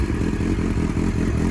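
Yamaha Fazer 1000 motorcycle engine running steadily after being started, a loud, continuous low rumble with a rapid pulsing beat, close by and with no talk.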